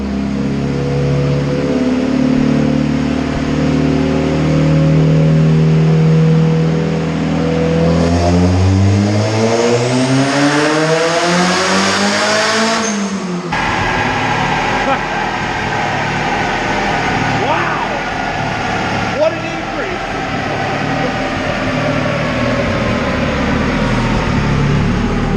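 Turbocharged Honda CR-V engine on a dyno with open header straight off the turbo, revving in a long loud climb to a peak, then cutting off and droning at lower speed while people talk.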